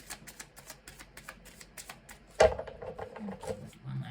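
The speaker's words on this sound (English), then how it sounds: "We will give the deck a few more shuffles." Tarot cards being shuffled by hand: a run of soft, quick riffling flicks, then a louder slap and rustle near the end as the deck is squared, close and fairly quiet.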